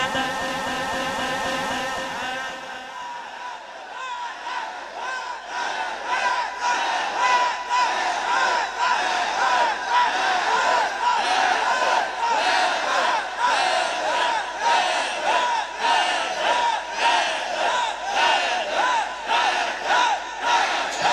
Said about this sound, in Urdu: ایک باری سارے بولو حیدر